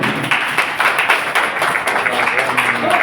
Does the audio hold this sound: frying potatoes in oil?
no